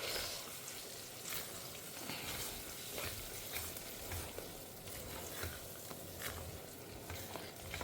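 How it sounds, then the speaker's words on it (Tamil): Onions and ground paste sauté in a pan, with a steady close sizzle and regular scraping stirs throughout, fairly quiet and with no talk. "ஸோ இப்போ வந்து நான் வதக்கின்னு இருக்கேன்."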